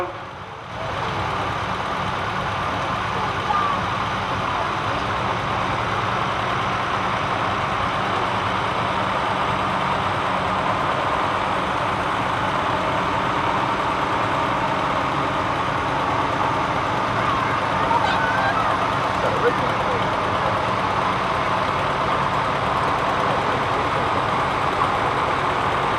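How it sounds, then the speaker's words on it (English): A Ford County four-wheel-drive tractor with a front bucket and wire rollover cage idles during a heritage weekend grand parade, a steady low engine drone holding at a constant level with faint background parade noise. "This machine with the bucket on it is a Ford County four-wheel drive."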